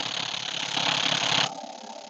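A DEWALT DCF899 impact wrench hammers rapidly against a tightened bolt, a close, loud rattling burst that strains for about a second and a half before cutting off abruptly.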